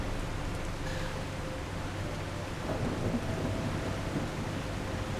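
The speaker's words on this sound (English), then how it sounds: "the storm and rain effect is good, isn't it?" Stormy weather in the video game The Last Caretaker: a steady wash of heavy rain with a low rumbling thunder underneath, continuous and fairly quiet throughout.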